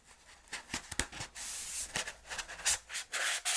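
Light hand sanding of a model rocket coupler on a LOC Graduator rocket: quiet, close, rasping strokes in short uneven bursts, some longer sweeps, with no voices.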